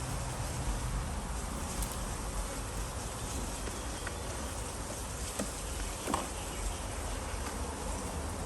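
Honey bees drone steadily at a backyard bait hive, a dense continuous buzz close by with small swells and individual wingbeats passing near.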